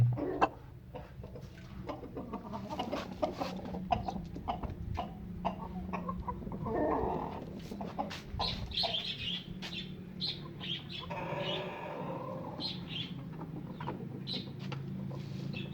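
Freshly bathed chickens cluck and chirp near at hand, scattered short calls coming in irregular bursts over a quiet background without any talk.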